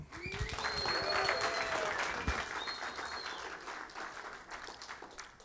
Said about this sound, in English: why don't you all give a big round of applause and a cheer for Urban?